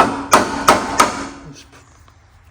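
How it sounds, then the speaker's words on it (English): A hammer strikes the cylinder head of a 19.5 hp Briggs and Stratton engine three times in a steady rhythm, loud sharp metallic knocks up close, then the ringing fades into quiet. "I have to pound it here with a hammer"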